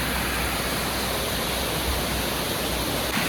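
Water pours steadily at Palghar waterfall, a dense continuous rushing roar close by with no pauses or voices over it.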